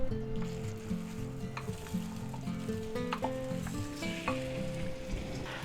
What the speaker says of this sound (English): we're going to go ahead and take our marinated pheasant and quail and put that right in there